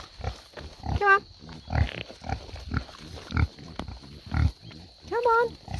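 Farm pigs grunting and squealing close by in a pen, short snorts and a few higher squeals scattered among a person's coaxing speech.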